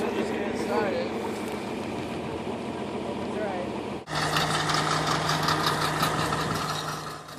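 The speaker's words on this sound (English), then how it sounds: "we must wind up the wire on the ground using this wire winder" Engine-driven wire winder reeling fence wire up off the ground on a farm in March, a steady mid-pitched engine drone with a sharp cut partway through, after which the running note grows brighter and louder.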